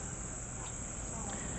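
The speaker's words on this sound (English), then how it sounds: "Can you hear the cicadas?" Cicadas at the Namutoni camp in Etosha, Namibia, keep up a steady, high shrill drone with no breaks, faint and distant against a wide hiss of outdoor background.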